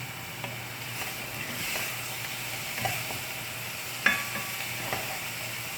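Onion frying in a pan as it starts to brown, a soft steady sizzle close by, broken by occasional spatula scrapes and one sharper clink near the end.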